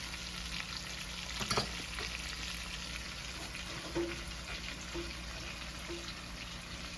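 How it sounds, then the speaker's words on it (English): Lamb chops frying in garlic butter in a pan, a steady broadband sizzle throughout with a few faint clicks of a utensil, no voices present. "she cooked the lamb chops for 5 minutes on that one side. And browning slowly"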